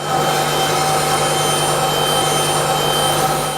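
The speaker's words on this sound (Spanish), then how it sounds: "se marca todo el contorno para recortarlo con la sierra" A power saw cuts the outline of a wooden guitar top in a handmade guitar workshop, a steady, loud motor whine with a constant hum and no pauses.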